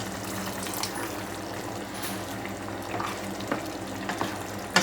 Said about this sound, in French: Je vais rajouter un peu d'eau.